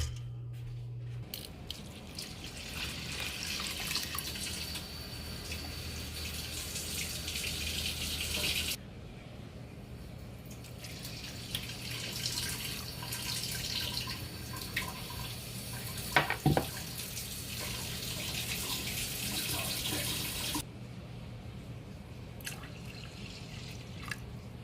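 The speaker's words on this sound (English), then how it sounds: "We need 5 cups of water." Water pours steadily into a cooking pot, about five cups, for a black biko sweet rice cake. It is a continuous splashing, trickling stream in a home kitchen, close and moderately loud, with brief pauses and no talking.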